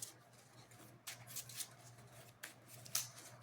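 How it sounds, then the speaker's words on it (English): Sleeved trading cards shuffled by hand, a few quick soft riffling bursts and light slaps at intervals, faint and close, with no speech. "Go ahead and I'll do a quick shuffling here."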